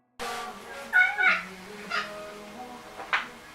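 A cat meows several times close by, a drawn-out wavering call followed by shorter mews, over a low background hum.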